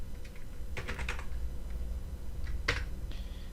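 Someone types on a computer keyboard in a few quick bursts of clicks, then one sharper tap, with a short pause and some scattered keystrokes after it, close and clear.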